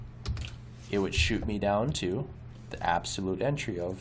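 Computer keyboard typing while entering commands in AutoCAD, light clicks mixed under someone talking close to the mic throughout.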